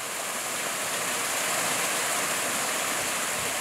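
A forest waterfall and stream in Si Racha, Chonburi rush with steady, even hissing water noise, continuous and moderately close with no voices.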